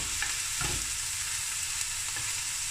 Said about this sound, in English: Now I'm going to brown the onions.